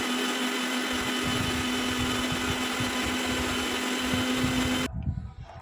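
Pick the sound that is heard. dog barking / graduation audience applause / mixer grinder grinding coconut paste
mixer grinder grinding coconut paste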